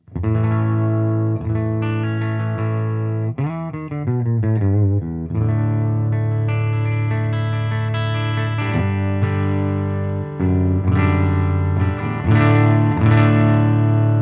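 A clean electric guitar plays sustained chords and a few picked notes through an amp, bright and clear with a touch of shimmer, no voices.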